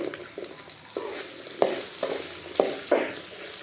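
Onions frying in a pan for a Tamil mutton curry, a steady broadband sizzle with a few sharp stirring scrapes and clanks, close and moderately loud, with no talking.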